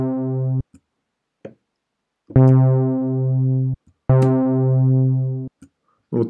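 Three sustained dub synthesizer chords in Reason, shaped by a filter envelope, each swelling and then cut off, with short clicks and blips in the gaps between them.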